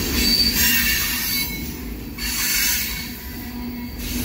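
A CSX freight train slows at night with shrill, high wheel squeal riding over a low rumble of rolling cars. The squeal swells and fades in waves, loud and fairly near.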